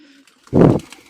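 A yellow-eyed old-bloodline pigeon gives a single short, close, low coo that is over in about a third of a second.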